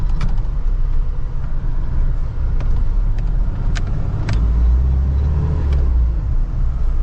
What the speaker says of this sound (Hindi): गाड़ी के इंजन साउंड तो क्या ही सुनाऊँ, काफ़ी है